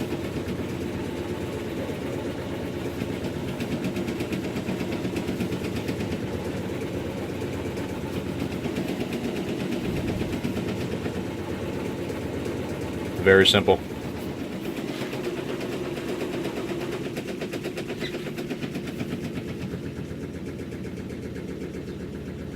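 A Maytag MVWC465HWO top-load washer spins fast, around 870 RPM, with a steady droning hum throughout and one brief clunk midway. A voice speaks briefly over it.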